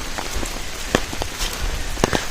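Steady rain patters on leaves and ground in the Periyar forest, a dense hiss with scattered sharper drips standing out now and then.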